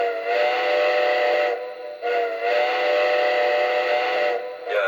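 Steam whistle from a Lionel model train set of the Strasburg 90 decapod locomotive, sounding two long sustained chime blasts separated by a brief gap, loud and close, with no talking.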